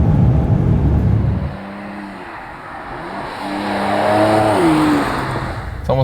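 Mercedes C43 AMG at high speed, close and loud: a broad roar of wind and tire noise settles into rising engine tones as the car accelerates and shifts gears.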